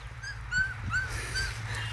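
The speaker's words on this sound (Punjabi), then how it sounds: "ਉਹ ਕਤੂਰੇ ਚਿੱਕੀ ਜਾਂਦੇ ਨੇ ਉਧਰ" Puppies whimper in a farm setting with a few short, high-pitched whines in quick succession, faint and a little distant.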